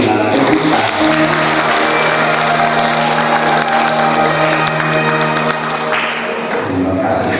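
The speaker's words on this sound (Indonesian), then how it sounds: "Mari kita sambut dengan tepuk tangan." Guests at a wedding give the newlyweds sustained, loud applause, a dense wash of clapping from a full room that runs steadily for several seconds before thinning out, with voices mixed in beneath it.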